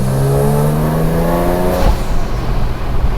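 A Genesis G70 fitted with a downpipe and an aftermarket intake lets out a loud, close exhaust drone that holds steady, then cuts off sharply, leaving a rough rumble.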